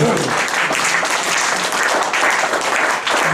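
Congregation in a church clapping and cheering in praise, a dense, loud, continuous wash of applause from many people filling the whole moment, with voices mixed in.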